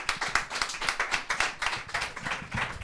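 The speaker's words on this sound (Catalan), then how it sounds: "un aplaudiment pel Maiol, sisplau." Applause for a podcast guest called to the stage, a modest group clapping in a quick, uneven rhythm at moderate loudness, with no voices over it.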